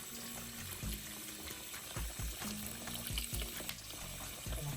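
Vinegar pours over thawing chicken, a soft, steady liquid trickle with faint background tones and no voices.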